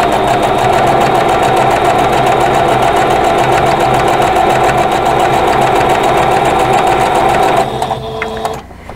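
A sewing machine stitching steadily with very thin 50 weight thread at a standard 2.5 stitch length, loud and continuous with a fast even rhythm, stopping near the end.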